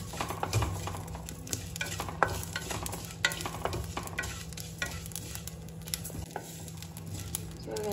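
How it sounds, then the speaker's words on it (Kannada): Onions and cumin seeds fry in a pan with a continuous sizzle, while a utensil stirs and scrapes against the metal in irregular clinks, all heard close up without talk. "ಈ ಈರುಳ್ಳಿ ಕೂಡ ಹಾಕ್ತಾ ಇದ್ದೀನಿ ಈ ಈರುಳ್ಳಿನ ಸ್ವಲ್ಪ ಲೈಟಾಗಿ ಬ್ರೌನ್ ಆಗೋ ಥರ ಹುರ್ಕೊಬೇಕು"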